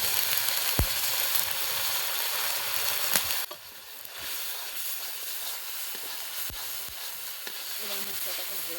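Spice paste with turmeric and salt for paneer sizzling in a pan, a steady frying hiss with occasional sharp clicks of a stirring utensil, louder at first then softer, with no talk.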